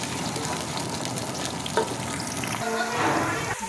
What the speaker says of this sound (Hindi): सबसे पहले इसमें हमने प्याज डाल दिया है। प्याज को हल्का ब्राउन करेंगे